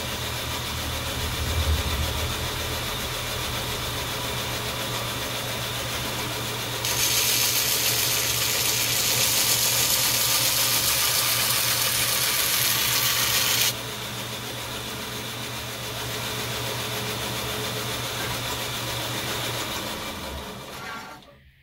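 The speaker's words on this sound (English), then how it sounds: "That's my grinder." A belt grinder fitted with a Deerfos finishing belt runs steadily with a constant motor hum, and a loud, bright hiss of steel being ground on a knife rises for several seconds in the middle before dropping back to the hum.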